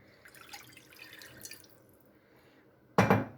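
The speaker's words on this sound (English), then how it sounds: "I am adding in water." Water poured into simmering sambar made with lentils in a home kitchen, a short loud splashing burst near the end after quieter faint clinks and background noise.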